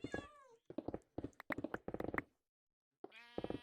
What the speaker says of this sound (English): I hear the goddamn cats above my head.